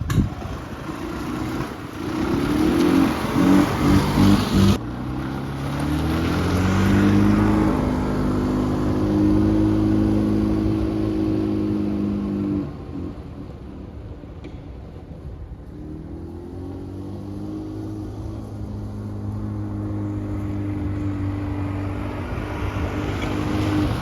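A freshly rebuilt EZGO TXT golf cart engine running, a steady, fairly close putter that revs up and holds, eases off around midway, then climbs again under a faint high-pitched whine.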